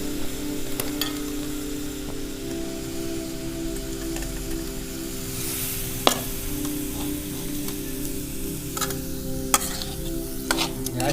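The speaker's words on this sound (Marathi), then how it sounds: "चांगलं हलवून घ्यायचे मिक्स करून घ्यायचा मसाला सगळा" Dingri (mushroom) vegetable being stirred with masala as it fries in a pan, a steady close sizzle with scraping spoon strokes and a few sharp clinks against the pan, no talking.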